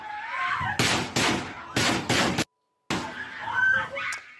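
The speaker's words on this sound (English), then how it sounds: "Gunshots drowned out by the screams of children." Several sharp, loud gunshots in quick succession during the Parkland school shooting, broken by a brief silence, with children screaming and distressed voices rising around and after them.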